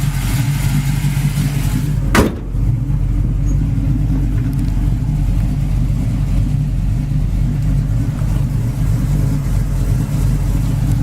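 A 1971 Chevrolet Chevelle's V8 engine idles smoothly and evenly with a low, steady rumble, broken once by a brief sharp click early on.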